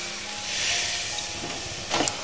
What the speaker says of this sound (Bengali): এবার আমরা একটু জল দিয়ে দেব।